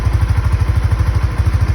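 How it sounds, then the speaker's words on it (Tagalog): A Honda Winner X motorcycle engine idles close by, a steady rapid low thumping with an even regular rhythm and a faint mechanical clatter, no voices. "So nag-start yung makina. Running po yan, running. Ka-idle po yan."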